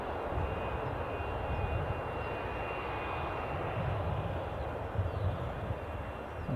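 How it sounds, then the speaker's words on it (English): Logan Air RJ145 regional jet at Edinburgh airport, a steady broadband engine roar that holds even and fairly loud throughout, with no voices over it. "There's our mischievous Logan Air, the RJ145."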